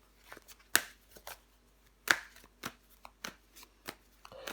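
Tarot cards handled and laid down, making a string of crisp, close slaps and flicks at an irregular pace, quiet apart from two sharper snaps.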